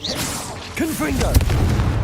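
A fiery blast spell erupts in a cave in a wizarding video game, a sharp booming impact with crackling rumble following a shouted incantation, close and loud.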